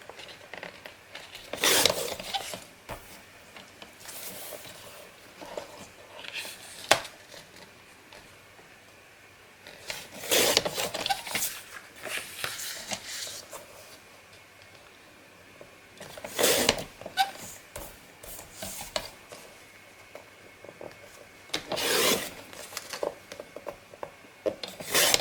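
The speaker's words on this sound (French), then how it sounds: "Donc on va les recouper à ras de l'étiquette avec le massicot." A paper trimmer (massicot) slices pieces of a handmade scrapbook album down to the edge of a label, producing several rasping, scraping cutting strokes spaced a few seconds apart, close by, with soft handling noise between them.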